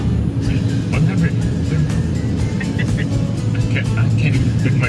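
An old clunker car cruises along a highway between Costa Rica and Panama, its engine droning steadily and close under continuous road and wind noise, with a person talking over it.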